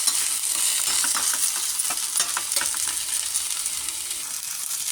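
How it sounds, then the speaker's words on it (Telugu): Vegetables frying lightly in a pan with pepper and chili powder for malai veg paneer, a steady close sizzle with soft stirring scrapes running throughout, no voices. "కొంచెం చిల్లీ పౌడర్ వేసేసి లైట్గా ఫ్రై చేస్తాం"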